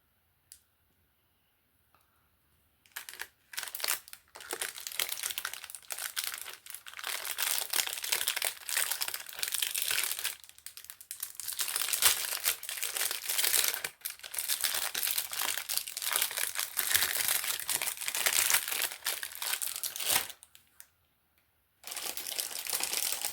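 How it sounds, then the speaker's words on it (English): Crinkly plastic packaging around silicone molds is handled and crumpled close up, a dense continuous crackling broken by a few short silent pauses. "If it has anything to do with molds, it's crinkly."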